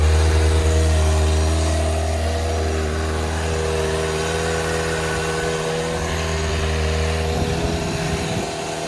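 A stock 2003 Kawasaki ZZR 1200 motorcycle engine idling steadily while it warms up, close and loud, with a slight drop in level near the start and a brief uneven stretch toward the end.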